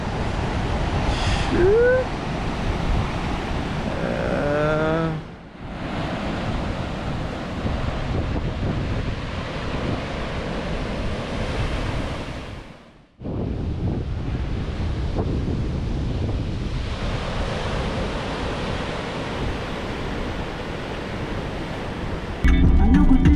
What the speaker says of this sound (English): the ocean is pretty rough, man. Look at those waves.